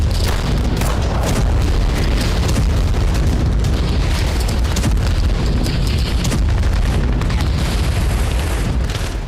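A US guided bomb strikes a factory building in Vovchansk, producing a loud, continuous blast roar and heavy rumble that fills the whole stretch without letting up.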